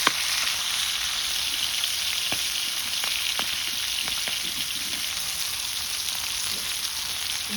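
Small fish shallow-frying in a pan, turned over now and then, with a constant dense sizzle and faint sporadic clicks from the turning utensil, close and steady, no voices.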